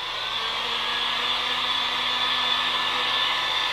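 A hair dryer blows steadily over a drawing, giving a loud, constant airy whir that runs unbroken from start to finish.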